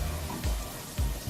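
Butter heating in a hot pan for kimchi, crackling and sizzling close by in short uneven bursts, with no talking.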